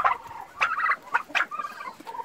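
Turkeys gobbling in repeated bursts, several warbling calls close by with short pauses between them.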